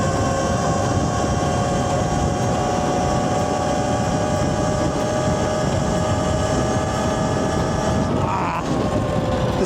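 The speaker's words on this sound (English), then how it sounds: "This damn truck." A truck rolls past on the road in a steady, loud drone with a strong low rumble and tonal engine whine, fading and shifting near the end.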